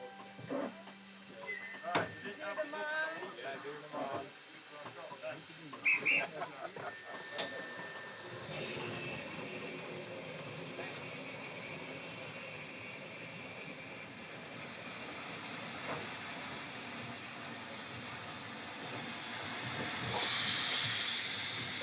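A steam locomotive hisses continuously at close range, with clanks and rattles early on, a voice briefly audible, and a louder burst of steam near the end.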